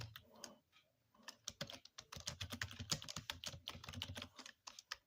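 Someone types fast on a mobile phone keyboard, with a dense, steady stream of close, soft taps and a few pauses and no talking.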